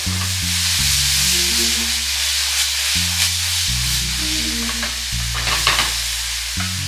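Meat sears and chars loudly on high heat for sopes, a dense, constant sizzle with a few sharper pops and crackles near the end, no talking.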